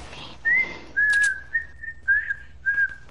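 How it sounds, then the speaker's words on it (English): A person whistles a short series of clear, wavering notes in quick succession, close and fairly loud, with brief gaps between them. "You just heard me whistle."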